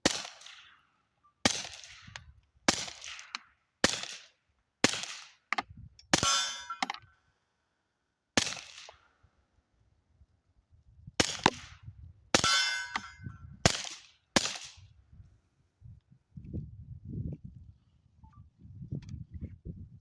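Muffled gunshots through a Resilient Suppressors RSP suppressor, each followed by a sharp metallic clang of bullets striking steel targets, about a dozen in quick bursts, then quiet rustling.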